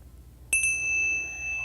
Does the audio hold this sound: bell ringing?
yes